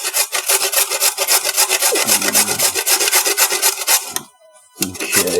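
A fresh carrot being grated by hand and twisted against the grater, giving loud, close, continuous rasping strokes in a steady rhythm, with a brief pause near the end before scraping resumes.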